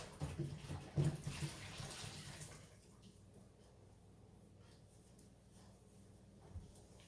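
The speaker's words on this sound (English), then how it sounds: "let me wash my hands" Running tap water splashes over hands at a kitchen sink, a steady loud gush for a couple of seconds before the flow stops, leaving a faint low hiss and quiet room noise.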